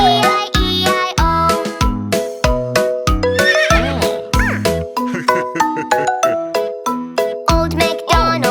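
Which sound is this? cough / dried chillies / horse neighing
horse neighing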